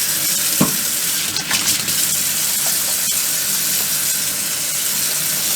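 A kitchen tap runs steadily while hands are washed beneath it, a loud, close, continuous rush of water with small splashy changes as the hands move; no talking.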